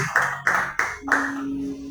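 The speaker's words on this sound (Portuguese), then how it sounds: "Aplauda Jesus nesta noite bem forte." A church congregation at a communion service claps hard in a few slow, loud, unison strikes, each sharp hit followed by a short decay, with a low sustained tone entering near the end.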